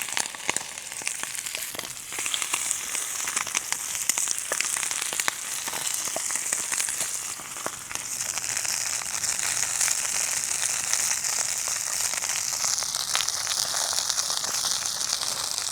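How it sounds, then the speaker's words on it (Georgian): Chicken wings grilling over an open fire outdoors at the Algeti reservoir, giving a steady, close crackling sizzle that runs the whole time with no talking. "დავდოთ ახლა ეს ჩვენი ფრთები რომ შეიწვას."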